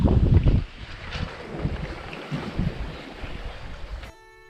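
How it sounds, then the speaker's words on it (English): Wind blowing at sea aboard a Contessa 26 sailboat on a solo Atlantic crossing, a loud gusting rush buffeting the microphone with water noise beneath, dropping away abruptly near the end. "the wind has freshened once again, and it's blowing from the east, the direction that I'm trying to head"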